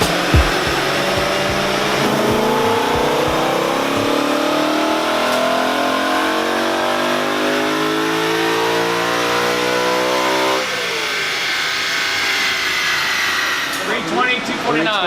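A BMW M3 with intake and exhaust modifications is revved on a dyno, its engine climbing in one long continuous pull that rises steadily in pitch for about ten seconds, drops sharply, then winds down, loud and close throughout.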